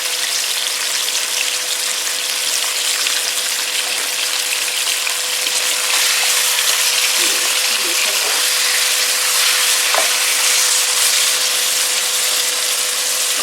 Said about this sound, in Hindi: तो अब मैं इसमें ऐड कर देती हूँ मटन को पहले फ्राई कर लें।